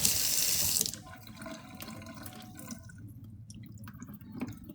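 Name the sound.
tap water rinsing canned pineapple in the sink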